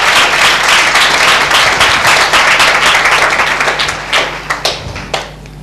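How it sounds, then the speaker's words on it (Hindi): A church congregation at a Good Friday service claps loudly and densely, the applause thinning into scattered separate claps toward the end. "क्या एक जोरदार ताली प्रभु यीशु मसीह के नाम को दें।"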